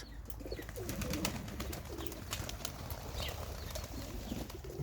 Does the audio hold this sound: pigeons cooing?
yes